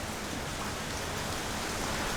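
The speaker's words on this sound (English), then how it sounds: "that's the sound of the rain and the wind howling as the storm is picking up" Heavy rain and gusting wind from Typhoon Hagibis in Tokyo, a continuous broadband hiss of downpour, steady and fairly quiet, with no voices.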